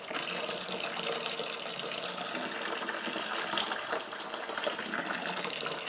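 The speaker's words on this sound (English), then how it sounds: "This is actually sparging out a lot easier than I originally thought it would." Liquid from a bread whiskey mash pouring and splashing steadily as it sparges through a grain bag, a continuous close gushing rush with no voices.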